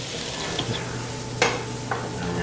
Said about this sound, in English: One thing I like to do is cook the rice in this fat